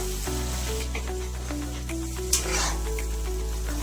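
Eggplant and masala sizzling as they are stirred together in hot oil, a steady close hiss with a brief sharper flare partway through, no talk.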